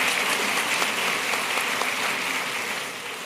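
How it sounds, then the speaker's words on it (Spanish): Audience applause welcoming a pastor at a spiritual leadership seminar, a thick burst of clapping with a few distinct claps popping out, slowly fading toward the end. "al cual vamos a recibir con un aplauso, por favor"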